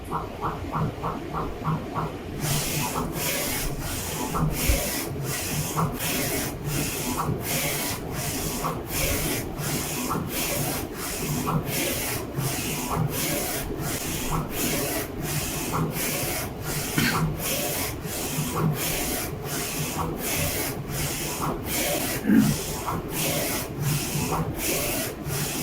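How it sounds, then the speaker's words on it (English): A FocusInc Alpha-Jet printer printing: after a short quieter start, the print head sweeps back and forth in a steady, regular pulse of loud, close, hissing passes that carries on without pause. "And printer start printing."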